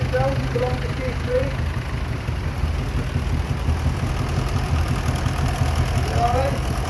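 Vintage main road tractor engine idling at a steam and vintage show in Corbridge, Northumberland, a steady low mechanical chug held throughout, close and fairly loud, with faint crowd murmur behind.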